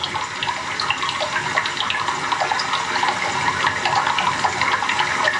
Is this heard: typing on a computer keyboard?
no